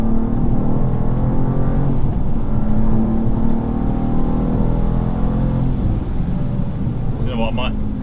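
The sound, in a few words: BMW M2 G87 driving on German road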